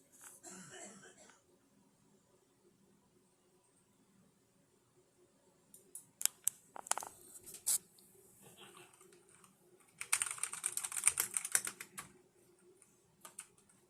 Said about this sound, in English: I'm just typing gibberish just to listen to the sound and see how fast it goes.